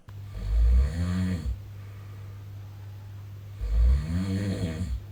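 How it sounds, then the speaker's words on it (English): A man snores loudly in two long rumbling breaths a few seconds apart, with a quiet hum between them. "listening to a guy that snores like a chainsaw at night"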